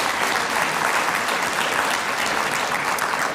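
An audience at an annual meeting breaks into steady applause, a dense, even wash of many hands clapping at moderate volume throughout, with no talk over it.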